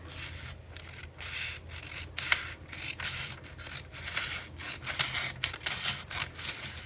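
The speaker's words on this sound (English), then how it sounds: "So I am going to cut this sheet of paper" Scissors cut through a sheet of notebook paper in a string of close, crisp snips and rasping slices, repeated roughly every half second at a steady pace.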